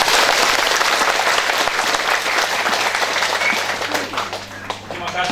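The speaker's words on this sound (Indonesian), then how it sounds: "Mari sambut dengan tepuk tangan yang meriah" A church congregation of the Gereja Toraja Mamasa claps loudly and continuously, a dense crowd applause that fades slightly toward the end, with a few voices underneath.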